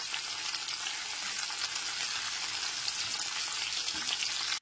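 Chopped onion and garlic fry together in a pan and are stirred, making a loud, continuous, even sizzle close by that cuts off abruptly.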